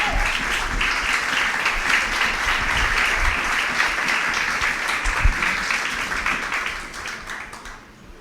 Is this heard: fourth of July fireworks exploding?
no